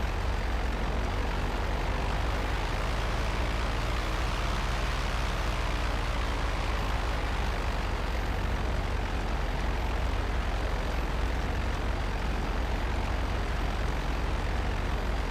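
Continuous droning engine of a small stunt plane in GTA Online, steady and loud throughout with a slight pitch sweep and no talk.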